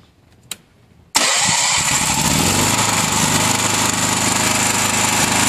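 Welder generator engine cranking on its electric starter, a quiet tick and brief cranking before it fires up abruptly into a loud, steady, buzzy running drone that continues close by.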